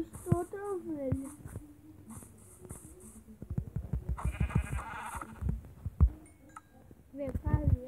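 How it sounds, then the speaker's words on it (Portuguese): Sheep in the video game Minecraft bleat several times in short wavering calls, mixed with game sounds while someone talks over them in Portuguese. "Vou pegar a ovelha, pegar mais uma vaquinha, né?"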